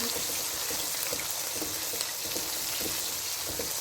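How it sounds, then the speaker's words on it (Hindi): Cumin seeds sizzling in hot oil in a fish handi pot, a steady crackling fry with scattered pops, close and continuous without talk. "अब इसमें मैं जीरा डाल दूँगी।"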